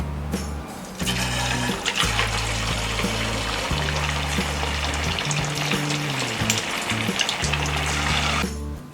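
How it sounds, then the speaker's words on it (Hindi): Leftover rice cutlets deep frying in hot oil, a loud continuous bubbling sizzle close by with a low hum beneath, fading out at the end, no voices. "इसी तरह हम बाकी सारे टिक्कीज़ भी फ्राई कर लेंगे"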